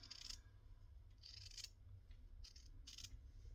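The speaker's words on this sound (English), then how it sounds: "Let me cut this down." Scissors snip through linen in a series of short, crisp cuts at an uneven pace, quiet and close, with no talking.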